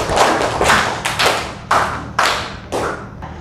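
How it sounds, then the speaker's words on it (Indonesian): A classroom of students clapping in unison, about seven sharp collective claps in a steady rhythm, loud and close with a little room echo. "tepuk tangan"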